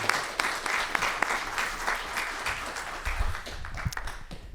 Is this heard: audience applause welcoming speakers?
yes